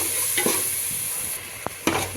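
Ginger and garlic sauté in a pan for chicken biryani with a steady oil hiss, broken by a few sharp scraping knocks of a spatula against the pan.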